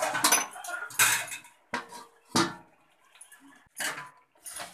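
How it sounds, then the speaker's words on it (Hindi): A ladle scraping and clinking against a kadhai while stirring chickpea greens, a few irregular metallic knocks and scrapes separated by quiet gaps. "इसको इसी तरीके से हम करछी से घुमाते रहेंगे ताकि अच्छे से मिल जाए"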